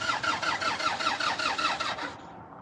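An engine with a fickle key cranks in a fast, even rhythm of starter whirs for about two seconds before catching, close and moderately loud, then settles into a low idle, with no talk over it.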